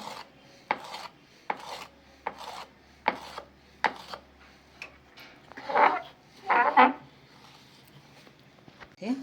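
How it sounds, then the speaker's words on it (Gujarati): A knife slices through a large rolled sheet of curry-leaf namakpara dough into thin strips, making a series of short, crisp cuts against the board, followed by a few longer scraping strokes near the end. "આ રીતે મોટી રોટલી બનાવીને કટિંગ કરવાના છે। પાતળા પાતળા કટિંગ કરવાના છે।"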